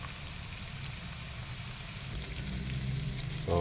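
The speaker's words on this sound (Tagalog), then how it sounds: "ginigisa talaga" Ingredients for ginataang gabi (laing) sautéing in a pan, a steady soft sizzle and crackle of frying that grows a little louder toward the end, with no talking.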